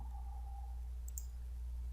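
A computer mouse right-click while working in 3D software, a brief pair of sharp clicks near the middle over a low steady hum, with no talking.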